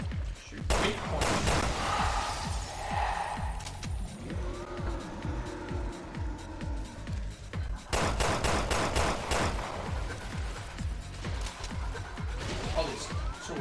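Bursts of video game gunfire in Resident Evil Revelations 2 Raid Mode, with sharp repeated shots in clusters, the densest rapid volley near the end, over fairly quiet background action.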